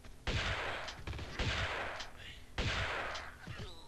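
Three loud gunshot bursts from Tomb Raider 2 Gold, each a sharp crack with a decaying tail and faint echoes, spaced roughly a second apart, standing alone with no talk.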